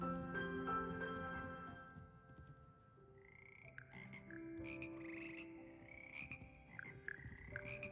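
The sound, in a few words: frog choir croaking in video game Hogwarts Legacy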